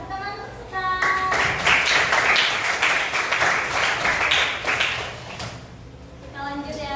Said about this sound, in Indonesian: Tepuk tangan untuk Sekar.